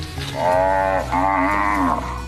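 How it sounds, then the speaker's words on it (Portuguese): Cattle moo in a pasture under a eucalyptus plantation at Embrapa Cerrados in Brazil's Distrito Federal, two long, loud, close moos with a brief gap between them and no talking. "as vacas repousam debaixo de uma plantação de eucaliptos, protegidas do sol forte"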